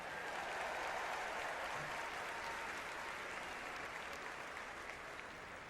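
A large crowd applauding a couple named Brian and Sandra at a Democratic political event, a steady, dense wash of clapping that continues evenly throughout.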